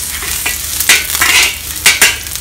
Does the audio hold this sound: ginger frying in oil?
yes